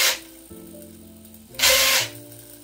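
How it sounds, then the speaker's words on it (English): A Tamiya GF-01 four-wheel-drive RC drift car's electric motor whirs as the wheels spin, with shifting pitch and a short louder burst partway through, close and without talk. "So when I brake, only the front wheel spins."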